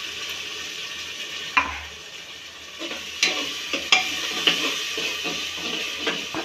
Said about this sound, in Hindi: 20-25 मिनट भूनना है, अदरक लहसुन का मसाला अच्छा भुना जाएगा